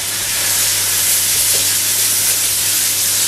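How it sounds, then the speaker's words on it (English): Madras curry paste sizzles loudly and steadily in a hot pan with garlic and onion, a continuous close hiss with no break. "Turn up the heat and add plenty of madras paste."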